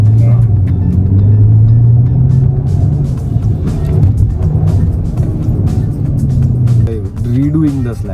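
A Skoda Octavia makes a high-speed run at the Buddh International Circuit, its engine a loud, steady drone heard from inside the cabin, with occupants speaking over it.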